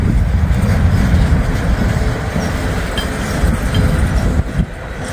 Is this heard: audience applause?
no